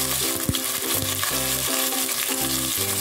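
Chopped medium onion sizzles and fries in oil in a pan while keema is being cooked, a loud continuous crackle with rhythmic stirring scrapes, and no voices.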